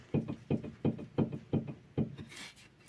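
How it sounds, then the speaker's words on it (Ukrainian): Worn upper stabilizer link ball joint on a Nissan Qashqai knocking as the anti-roll bar is rocked up and down by hand: seven sharp, close, hollow knocks in an even rhythm, then a brief hiss. "Тут у нас шарнірчик цілий, а верхній, як ви чули, стукає."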